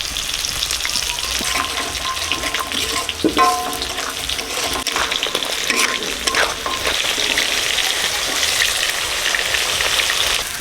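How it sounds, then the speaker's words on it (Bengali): Water hits a hot pan of sautéed ginger, garlic and onion with ground turmeric, cumin and salt, setting off a loud, continuous sizzle and bubbling hiss with occasional stirring clatter throughout. "জল দিয়ে দিচ্ছি দিচ্ছি"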